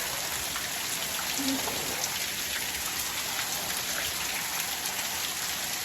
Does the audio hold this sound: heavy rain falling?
yes